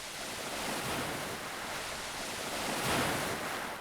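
Ocean waves in the Roblox game Blox Fruits washing in a continuous broad roar, one surge swelling near the end, moderately faint and without voices.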